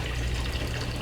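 Plain water pours steadily into a pot for oxtail broth, a continuous splashing, gurgling rush heard close and alone for about a second.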